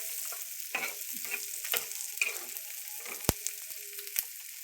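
Onion frying in oil for a dried fish chutney, a soft, fairly quiet sizzle with a few scrapes and light metallic clinks of a spoon against the pan, close up.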